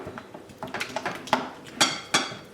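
Chocolate being mixed in a bowl for Easter nests, with a series of sharp clinks and scrapes of a utensil against the bowl, irregular and close, two louder knocks near the end.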